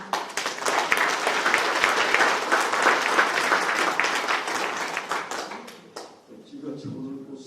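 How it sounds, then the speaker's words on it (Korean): An audience breaks into strong, steady applause to welcome a speaker to his seat at a Korean political debate forum, dense clapping filling about six seconds before fading out, with a voice then speaking alone. "그러면 힘찬 박수로 자리에 모시겠습니다"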